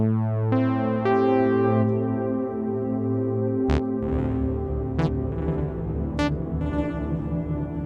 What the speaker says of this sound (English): we've got a stretched, slowed down lo-fi IR